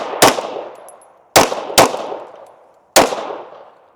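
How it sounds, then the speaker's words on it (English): Pistol shots fired during IPSC competition shooting practice: four loud, sharp cracks, the second and third close together, each with a decaying ring, with no talk. "you're pulling the trigger the same way for all 5 of those shots"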